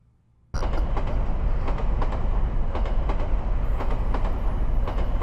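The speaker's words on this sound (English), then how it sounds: "we board a train on a line that winds its way through the mountains" A train travels a mountain line in a visual novel game, a steady loud rumble of wheels on track with rhythmic clicking starting after a short silent opening and continuing alone.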